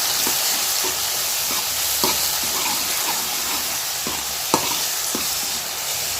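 Steady sizzling of tomatoes sautéing in a pan for fish curry, with a spatula stirring and scraping at irregular intervals, close up and fairly loud.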